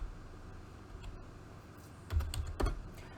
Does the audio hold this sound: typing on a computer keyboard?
yes